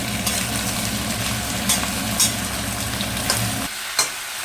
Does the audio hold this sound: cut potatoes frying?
yes